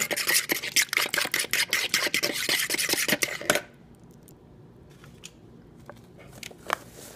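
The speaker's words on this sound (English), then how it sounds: "I've got my oil, milk, and egg in here. And I'm just gonna whisk it up like it says." Whisking oil, milk and egg in a bowl for blueberry muffin batter, a quick run of sharp rhythmic clinking strokes close by for about three seconds, then near quiet with a few faint taps.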